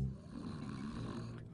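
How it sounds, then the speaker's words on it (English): A cartoon character snores, a low, rumbling, continuous snore heard alone and fairly close. "But boy, does he snore."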